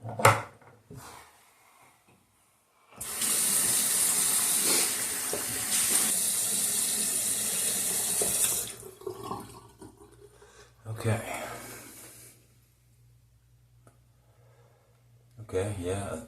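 Tap water runs steadily into a bathroom sink for a rinse after shaving with a Razorock Don Marco razor, a loud continuous rush of several seconds, followed by shorter splashes and quieter gaps.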